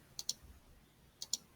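Two pairs of quick, faint computer mouse clicks about a second apart, crisp and close in a quiet room.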